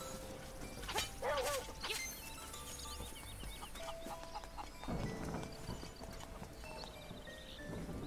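A chicken in a Legend of Zelda video game gives a few short clucks among hoof-like clip-clop steps and other soft game sounds, all fairly quiet.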